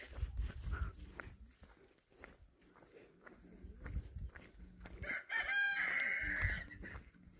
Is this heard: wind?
no